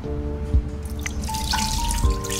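Water trickles and splashes into a cooking pot for chicken and taro soup, a short steady pour with drips and a rising filling tone, close and clear with no talk.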